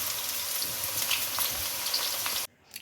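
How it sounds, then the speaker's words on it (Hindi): Okra (bhindi) frying in a pan gives a loud, continuous hissing sizzle for over two seconds, then cuts off abruptly, leaving a quieter faint crackle. "अब इसको इसमें डाल दें और फ्राई कर लें"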